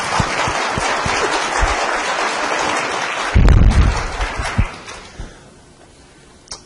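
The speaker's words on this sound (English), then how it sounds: "I'd like to give them a round of applause" Audience applause at an El Cajon city council meeting for local elected officials, a dense burst of clapping that swells, then thins out into scattered claps and fades to near quiet.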